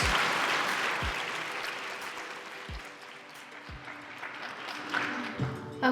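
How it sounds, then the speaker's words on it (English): An audience at a school Teacher of the Year awards ceremony applauds the nominees with steady clapping that runs throughout, a few sharp thumps on top. "Let's give a big round of applause to all of the nominees."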